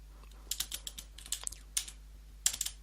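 Quick keystrokes on a computer keyboard while a command for aircrack-ng is entered, coming in irregular bursts of clicks with short pauses, close and fairly quiet over a faint steady hum.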